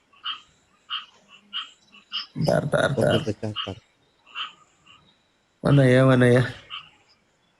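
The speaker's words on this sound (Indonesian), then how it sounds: "Ini kodok siapa ini? Kodok siapa ini?" A frog croaks in short repeated calls through a loud, busy scene, with people talking over it and background chatter filling the gaps.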